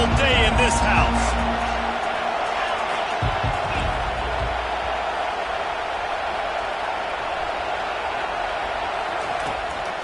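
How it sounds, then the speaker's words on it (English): Football stadium crowd roaring under the lights, a steady loud wall of cheering and whoops that holds for the whole stretch, with a commentator talking over it. "This crowd trying to show them what it's going to be like all day in this house."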